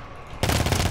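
A short moment of quiet in the GTFO shooter breaks into a loud, rapid burst of automatic gunfire. The burst carries on close and continuous to the end.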